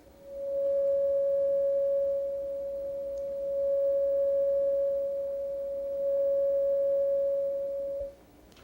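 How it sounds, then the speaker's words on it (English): A steady, pure test tone holds one pitch for about eight seconds. Its volume steps up by 6 dB, then back down, then up again before it cuts off, with no other sound around it. "I'm going to adjust the volume of a tone by 6 dB,"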